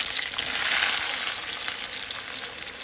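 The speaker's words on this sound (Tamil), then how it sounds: "வெங்காயம் சேர்த்துக்கிறோம்" Onions fry in sesame oil with cumin in a pan, producing a constant, close, loud crackling sizzle with light stirring and no talk.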